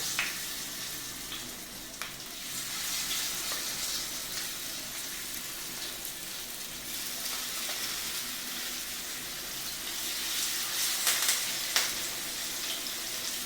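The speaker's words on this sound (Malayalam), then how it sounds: "നമുക്കിനി മീൻ ഫ്രൈ ഷാലോ ഫ്രൈ ചെയ്തെടുക്കാം അതിനകത്ത് ഞാൻ ആദ്യമായിട്ട് കറിവേപ്പില ഇട്ട് കൊടുക്കാം മീൻ ഇട്ട് കൊടുക്കാം" Pomfret with curry leaves shallow-fries in a pan of hot oil, giving a steady, close hiss and crackle that holds without a break, with a few sharper pops near the end.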